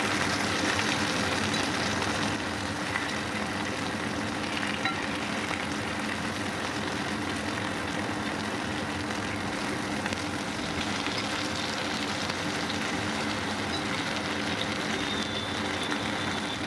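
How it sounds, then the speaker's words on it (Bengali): Tilapia fish sizzles steadily in hot oil in a pan, a dense continuous crackle and hiss that stays even and unbroken throughout, with no voices. "মাছের এক পাশ ভাজা হয়ে গেছে, উল্টে দিচ্ছি মাছ আর এক পাশ ভালো করে ভেজে নেওয়ার জন্য।"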